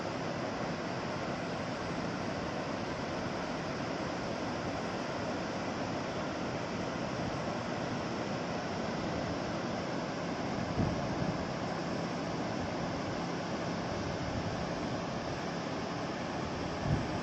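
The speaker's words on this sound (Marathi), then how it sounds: "अथांग पसरलेलं समुद्र शांतपणे लाटा आहेत त्याच्या" Calm sea at Ganpatipule beach, a continuous even rush of gentle surf mixed with wind noise, steady and moderately faint throughout with no distinct wave breaks and no voices.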